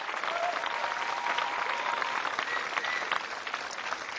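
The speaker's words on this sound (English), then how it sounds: "Thank you for your generous applause." A studio audience at a televised campus discussion on comedy and humour applauds continuously, with a steady wash of many hands clapping at moderate loudness and no speech over it.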